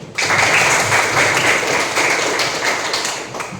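A morning church service audience breaks into applause, a loud, continuous rattle of many hands that starts abruptly and holds steady, tapering slightly at the close.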